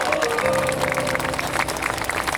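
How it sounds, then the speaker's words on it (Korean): A crowd at a memorial gathering for the Sewol ferry students applauds, a brief, loud, dense wash of clapping filling the whole moment. "모두 박수 부탁드립니다."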